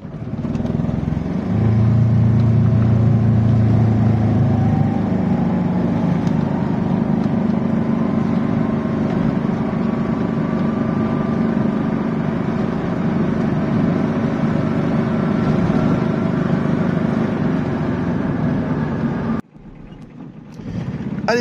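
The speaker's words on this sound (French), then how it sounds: "je vous propose maintenant de voir l'accélération du véhicule" A 2019 Aixam Crossover microcar accelerates with a steady, loud droning engine note that rises slowly in pitch over about twenty seconds, heard from inside the cabin, then cuts briefly near the end.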